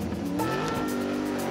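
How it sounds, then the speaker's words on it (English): A cartoon cat-themed toy car surges forward at speed, its engine rising steadily with a hint of tire squeal, loud and continuous for a brief moment with no talking. "The cat car surges forward."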